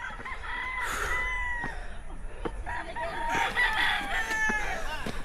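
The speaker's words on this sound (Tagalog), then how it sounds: "At naririnig naman natin yung mga tilaok ng manok." Roosters crow repeatedly, loud and close, amid clucking chickens and farmyard bustle in Bacolod, Philippines, with overlapping calls toward the end.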